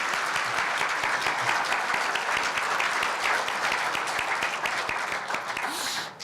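Sustained audience applause fills a ceremony hall at a university newspaper's 70th anniversary celebration, steady and dense throughout before tapering at the end.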